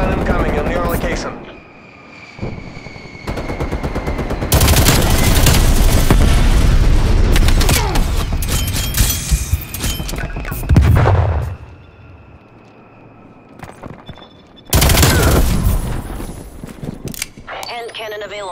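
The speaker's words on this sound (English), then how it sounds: "Strafe run incoming on your location." Heavy bursts of rapid gunfire and booming blasts from a strafe run in Call of Duty: Black Ops Cold War come in long waves, separated by brief lulls, loud and close, with synthetic game-like crackle.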